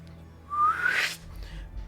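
A voice imitates the whistling hum of a teleportation portal being drawn into existence: a single rising whistle that swells loudly over about half a second, then fades into faint low murmuring.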